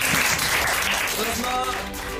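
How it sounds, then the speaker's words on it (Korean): A group claps steadily, a dense wash of applause that fades slightly toward the end, with voices murmuring underneath, as the Seoul Dynasty esports team wraps up its 2020 season. "박수 치고 끝납니다"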